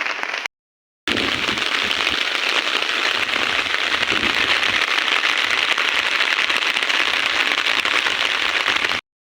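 Heavy rain driven by strong storm wind, a dense, loud, unbroken roar after a brief silent gap at the start, with no one talking.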